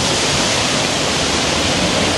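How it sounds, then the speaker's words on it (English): A river flows past, making a loud, steady, broadband rush of water that stays constant throughout, close and continuous with no other sounds standing out. "See the river there."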